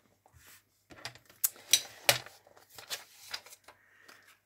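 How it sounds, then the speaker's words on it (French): A paper trimmer slices through paper in a handful of crisp scraping strokes and clicks, close up and sparse, separated by short gaps of quiet handling. "Alors, je reprends mon massicot."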